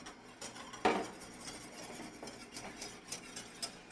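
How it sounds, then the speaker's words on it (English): A whisk beats a mixture into hot, simmering half and half for crème anglaise, with repeated scraping strokes against the pan, one louder knock early on, and a steady rhythm with no talking. "we can whisk this in a steady stream right into that hot liquid"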